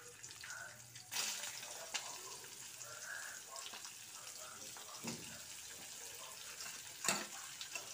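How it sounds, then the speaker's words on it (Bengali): Peeled boiled eggs frying lightly in oil in a pan, a steady soft sizzle with occasional sharper clinks and scrapes from stirring. "ডিমটা হালকা ভাজা করে নিলাম,"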